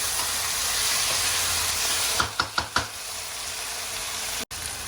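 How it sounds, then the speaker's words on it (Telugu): Amaranth greens and brinjal frying in a pan as a steady, close hiss, with a few sharp knocks of a spoon stirring against the pan partway through. "అంతా మంచిగా తిప్పి వేయించుకుంటామే"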